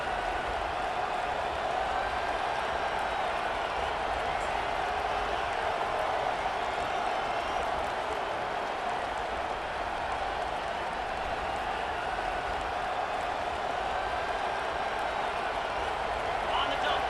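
A dense, steady roar of a large college football stadium crowd at UNC vs Oklahoma, loud and continuous throughout, with no breaks or distinct voices standing out.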